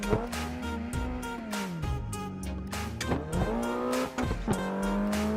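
A race car in Assetto Corsa Competizione howls through rising and falling engine revs and gear shifts, with squealing tires on corners, loud and continuous with no voices.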